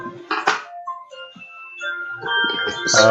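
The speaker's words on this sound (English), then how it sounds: "Oh, help. That's my phone." A mobile phone rings with a short electronic melody, tones rising and growing louder toward the end, with no one speaking.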